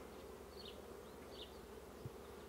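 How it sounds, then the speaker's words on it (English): Honeybees, drones and worker bees, buzzing at a hive in a garden, a faint steady hum of many wings with a few individual bees passing closer, no talking. "And then all these are female worker bees."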